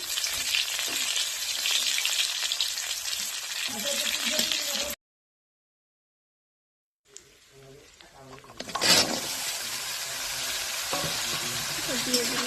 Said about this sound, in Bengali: এতে দিয়ে দিব পেঁয়াজ কুচি আর জিরে